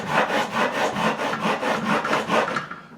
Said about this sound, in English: Diamond file. It might be 150 grit.